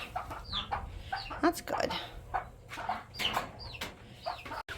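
Two mother hens and a small bantam chick cluck and chirp nearby in a farmyard, soft repeated clucks with brief higher peeps scattered throughout, and a short spoken remark partway through.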